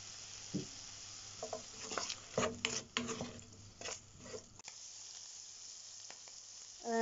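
Sliced button mushrooms and tomato sizzle in a hot pan with salt and spices while being stirred, soft crackling and scraping strokes coming and going close by, no voices.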